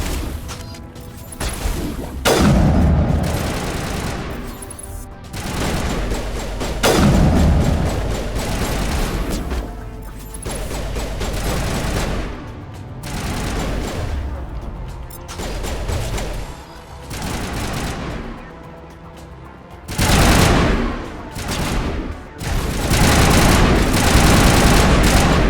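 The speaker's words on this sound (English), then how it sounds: "Let's try the sniper rifle." Gunfire from the Mass Effect video game, fired with a sniper rifle: loud, repeated sharp shots and booming blasts spread across the stretch, some in rapid bursts, with dense in-game battle noise between them.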